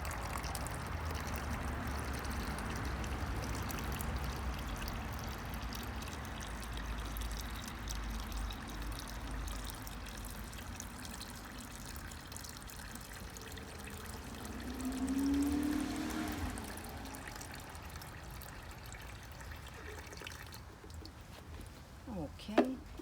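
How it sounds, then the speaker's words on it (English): Water is poured from a jug into the reservoir of a WallyGro planter holding a Calathea, making a steady, hissing trickle that runs on for over twenty seconds. It ends with a brief clatter. "I'm gonna grab my water and I'm gonna fill this reservoir up"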